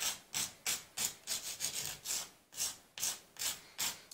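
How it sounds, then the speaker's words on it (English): Rough edges on a homemade plastic paint palette cut from a spoon being sanded by hand, a steady series of about a dozen close, dry rasping strokes in even rhythm, with no talking. "Sanded the rough edges away."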